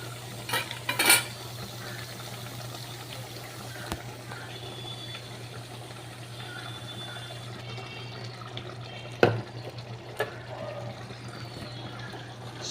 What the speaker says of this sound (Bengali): খুব জোরে ফুটছে তরকারিটা